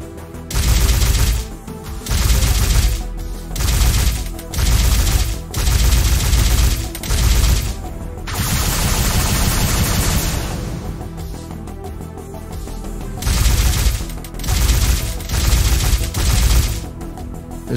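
Rapid bursts of turret gunfire in a video game, loud and close, coming in repeated volleys with short gaps, then a steadier stretch of continuous firing mid-way before the bursts return.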